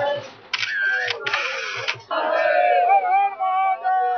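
Crowd of pilgrims at the Maha Kumbh in Prayagraj chanting Har Har Gange, Har Har Mahadev, voices rising in loud collective bursts with camera shutter clicks and shifting tones across the whole stretch.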